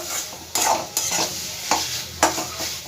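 Chicken sizzles as it is sautéed and stirred in a pan over a gas flame, with a steady frying hiss broken by several distinct scraping strokes of the spoon, close and loud.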